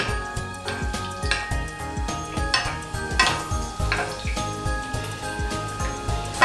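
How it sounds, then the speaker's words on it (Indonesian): Hot frying oil is poured over a mushroom martabak in the pan, giving a continuous close crackling sizzle with rapid popping and spattering, fairly loud and without talk. "Kemudian kita bisa siramkan minyak gorengnya di atas permukaan martabak seperti ini."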